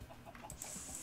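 Chickens cluck faintly in the video game Minecraft, a few soft scattered clucks in a quiet farm scene, ending with a brief louder sound.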